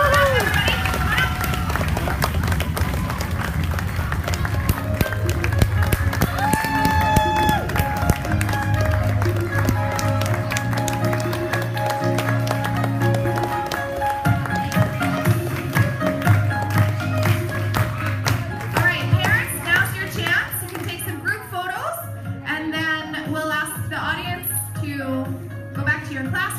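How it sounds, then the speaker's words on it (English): Continuous crowd noise with clapping and shuffling footsteps fills the space, lively and sustained, with scattered voices over it. "let's give them a big round of applause as they come on the stage"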